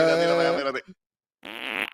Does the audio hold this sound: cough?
no